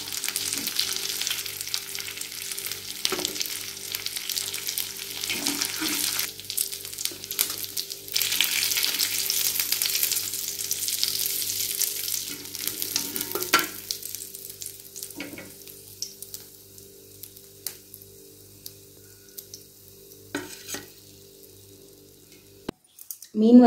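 Fish fries in oil with a loud, crackling sizzle that dominates the first half, then thins as the pieces are handled, with scattered clinks and drips and a low steady hum beneath, ending on a sudden clatter.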